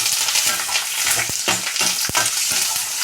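Onions, chilies and curry leaves fry loudly in hot oil for pachhi pulusu, a dense close sizzle broken by sharp scraping strokes and clinks as the pan is stirred.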